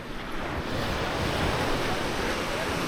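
Wind and surf on Canasvieiras beach under a clouding sky, a steady broadband roar of breaking waves mixed with gusty wind buffeting the microphone, continuous and fairly loud.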